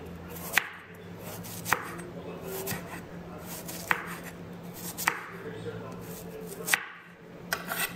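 A knife cuts on a board while tilapia, mushrooms and garlic are being prepared, with about seven sharp separate strokes spread unevenly over quiet kitchen room tone, close up and moderately loud, no talking.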